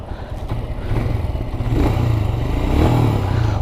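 Royal Enfield Scram 411 single-cylinder motorcycle idling and revving, a close, loud, thumping tractor-like engine beat that swells a little midway and holds steady.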